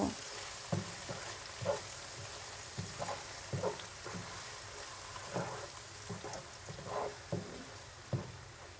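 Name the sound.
stir-frying onion paste with nuts, ginger, garlic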